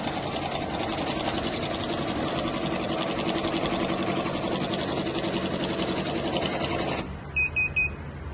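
A cash counting machine riffles rapidly through a stack of currency notes with a steady, dense whirring flutter for about seven seconds, then stops abruptly, leaving a few short electronic beeps.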